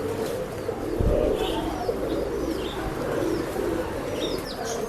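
Pigeons coo at a pet shop in soft, repeated throaty calls with light chirps, set against a busy indoor background murmur.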